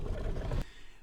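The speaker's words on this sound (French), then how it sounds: "C'était le bruit de l'Indominus dans le premier Jurassic World." The Indominus rex dinosaur from Jurassic World lets out a loud, rough, breathy roar that cuts off abruptly after about half a second, leaving only faint background rumble.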